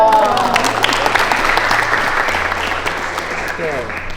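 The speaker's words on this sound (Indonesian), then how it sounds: "Ya, tepuk tangan dong." Students at a high school clap together in a burst of applause, dense and close, fading slowly as voices talk over it.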